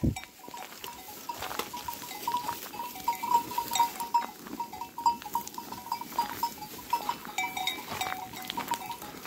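A flock of sheep bleats off and on over steady outdoor background noise in a wheat field, several animals calling at varying distances, with faint bell-like clinks.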